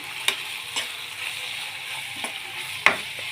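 Finely chopped onions, four in all, sauté in a pan until brown with a continuous moderate sizzle. A few sharp spatula knocks break through at irregular moments, with no talking.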